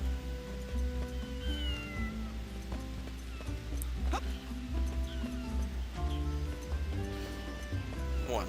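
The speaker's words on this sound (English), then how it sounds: "That sounds like the cat that boy in Honey's Day was looking for." A cat meows in the video game Wild Arms 5, a few short rising cries over a busy backdrop of music and game sounds, with a voice talking at times.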